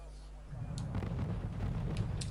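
Artillery fire in the real-time strategy game Wargame Red Dragon, with a dull low rumble of booms and thuds rolling in after half a second and continuing over a steady background drone, with a few sharper cracks.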